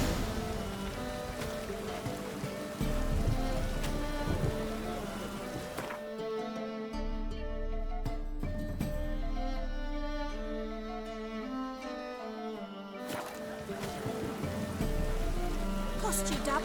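Rain falls during a storm in The Witcher 3: Wild Hunt, a soft steady patter beneath game music and dialogue, with voices talking over it.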